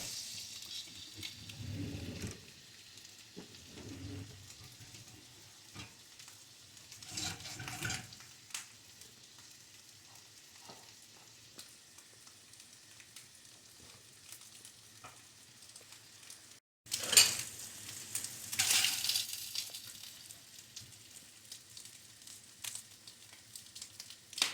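Sous vide lamb pieces frying and browning in a pan over high flame, a low continuous sizzle with occasional stirring clatter, growing louder and more active in the second half.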